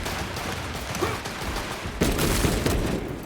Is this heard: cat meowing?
no